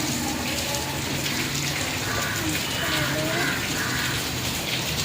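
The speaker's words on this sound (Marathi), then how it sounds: "पाऊस किती येत आहे" Heavy monsoon rain pours down steadily outside a house, a dense, continuous hiss of water with no breaks, fairly close and loud throughout.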